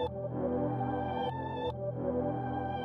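Melodic music sample played backwards in a music production session: sustained tonal notes swell in and end in sharp reversed cutoffs, a steady, moderately loud, unbroken musical passage with no voices.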